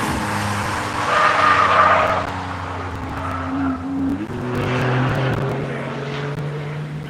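Race car engine drones through turn one at a Tire Rack One Lap of America event, loud and steady with a pitch shift mid-pass and a rising second engine note, no talk over it.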